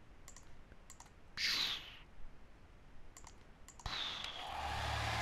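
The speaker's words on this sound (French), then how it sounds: "me dis pas qu'on va faire fondre le truc avec le sèche-cheveux" A hair dryer in a video game blows in two bursts to melt something, first a short whoosh and then a steadier, louder blast near the end, with quiet clicks between them.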